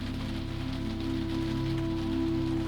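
Steady rain falls in a soft, even patter behind a quiet, low droning ambience, unbroken and without any voices.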